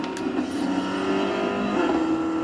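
A car driving in the Fortnite video game, its engine humming and revving steadily throughout with a continuous drone, loud and close, with no talk over it.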